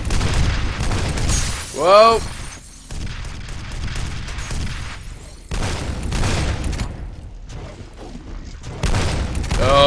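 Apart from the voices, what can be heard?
enemy gunfire in the video game F.E.A.R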